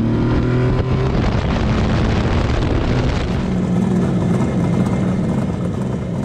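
A Kawasaki H2 750 three-cylinder two-stroke motorcycle roars close by, its engine note rising and then settling into a steady, loud drone for several seconds.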